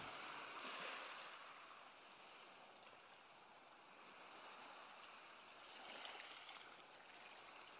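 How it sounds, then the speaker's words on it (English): Gentle sea waves wash steadily onto the shore as a soft, continuous hiss that swells and recedes, with no voices. "Gentle sea wash."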